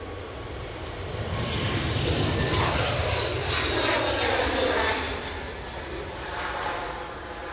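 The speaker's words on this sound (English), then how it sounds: "re's the Vueling that Linda's talking about, an A321, shortly to return to Barcelona" A Vueling Airbus A321 jet airliner's engines roar steadily at Edinburgh Airport, swelling louder through the middle and then easing off as a broad, continuous rumble with no voices over it.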